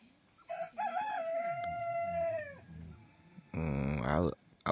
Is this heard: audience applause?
no